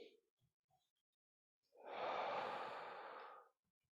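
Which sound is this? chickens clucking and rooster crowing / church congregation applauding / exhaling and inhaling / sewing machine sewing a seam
exhaling and inhaling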